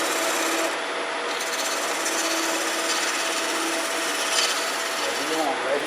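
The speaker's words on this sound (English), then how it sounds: "I'll use a sander for that." Power sander working over a wooden turned table with an epoxy top, a continuous raspy whirring grind that holds steady and fairly loud throughout.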